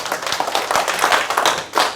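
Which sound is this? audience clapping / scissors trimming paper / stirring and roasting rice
audience clapping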